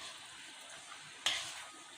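Tamarind pulp goes into a brinjal and potato curry cooking in a pan. Soft frying sizzle is followed by a sudden, louder splash of sizzle as the pulp hits, then it settles back to a gentle bubble.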